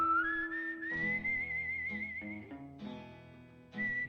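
A bright melodic whistle carries a movie theme tune over orchestral backing, holding long notes and gliding between pitches before a brief pause and return.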